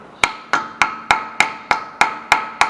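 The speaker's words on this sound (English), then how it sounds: "just grab your hammer" Nine sharp metallic hammer taps at an even, steady rhythm, close and loud, each ringing briefly before the next strike, seating a CV shaft into the hub of a Ford Taurus.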